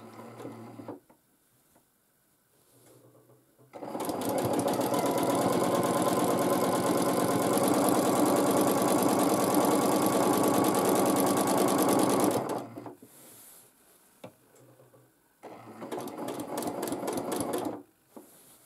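A sewing machine stitching free motion quilting runs in close rapid bursts, one long continuous run of about nine seconds followed by a shorter burst after a pause.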